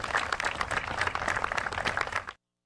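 Studio audience applause on a live morning radio show, a dense stretch of many hands clapping at steady loudness that stops abruptly.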